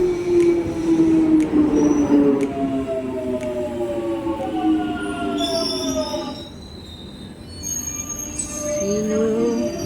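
A train pulls into a station with long, high, sliding wheel squeals and screeches of braking metal that rise and fall over a rumbling roll, loud and close.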